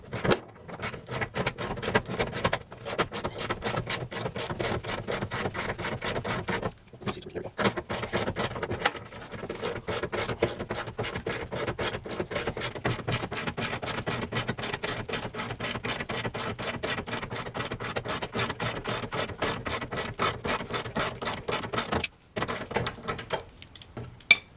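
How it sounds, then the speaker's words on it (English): Rapid ratcheting clicks from a ratchet with a 13 mm deep socket backing off stubborn gas tank strap nuts on a Jeep Wrangler, a steady close clicking run with two brief pauses. "to do this, you're going to need a deep socket 13 mil"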